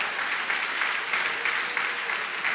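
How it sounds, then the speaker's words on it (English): A church congregation claps and cheers together for mothers, a dense, steady burst of applause that stays loud throughout. "Give the Lord a great big hand clap."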